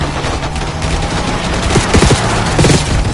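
Video game gunfire in Call of Duty Black Ops 6: a loud, sustained fusillade of automatic shots with heavy booming bursts near the end, close and continuous.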